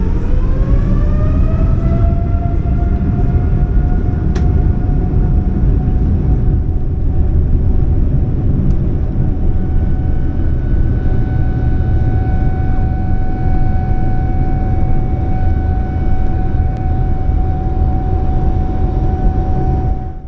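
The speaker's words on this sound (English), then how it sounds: "Ladies and gentlemen, we're ready for takeoff." Inside the business class cabin of a China Eastern Boeing 787 taking off from London Gatwick, the engines spool up with a rising whine over a loud, constant roar that holds steady.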